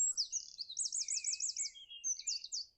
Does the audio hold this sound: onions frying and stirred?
no